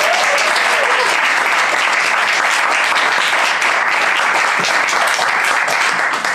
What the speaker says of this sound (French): on peut vous entendre applaudir